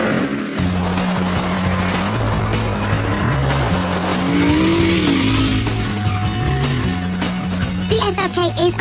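A Mercedes SLK drives a fast flying lap on a race track, its engine loud and close as it rises and falls through the gears, with tyre squeal in places.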